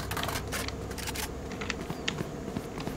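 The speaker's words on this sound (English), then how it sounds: "Reloading." Gun reloading in the Valorant video game: a quick run of metallic clicks and clacks from magazine and slide handling, fairly close, over a steady background bed of game ambience.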